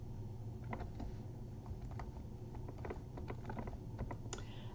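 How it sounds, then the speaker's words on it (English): Steady clicking of keys on a computer keyboard, quick irregular taps at moderate level with a constant low background hum and no voices. "we just want to hit the end key on our keyboard"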